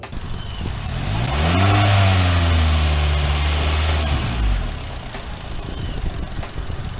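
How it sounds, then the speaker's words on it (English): A car engine cranks, catches and revs up with a rising then falling drone, settling back to a low idle, recorded for a dealer auto auction; no voices. "they actually have an audio recording of what it's like when the car actually starts up"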